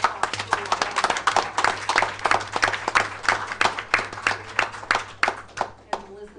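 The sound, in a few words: audience applause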